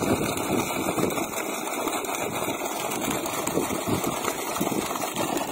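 A 5 HP borewell motor pumps water in a farm field, giving a steady, loud mechanical drone with a constant hiss of flowing water throughout, no voices.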